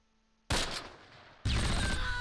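Artillery shells bursting in the World War II tactical game Close Combat, two sudden loud broadband blasts about a second apart, the first decaying into a rumbling tail and the second sustained, with no talk over them.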